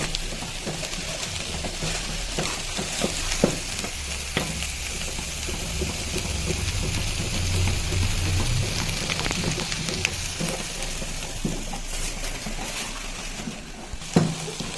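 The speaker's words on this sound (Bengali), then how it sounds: "এবার আমি আটাটা দিয়ে দিচ্ছি আটাটা দেওয়ার সাথে সঙ্গে সঙ্গে মানে নাড়তে হবে" Flour being stirred into a pot of boiling salted water to make rice-flour pitha dough, giving a steady, quiet bubbling and scraping texture throughout, with one sharper knock near the end.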